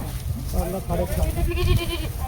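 Goats bleat repeatedly amid a busy crowd at a goat market, their wavering cries overlapping with nearby people talking throughout.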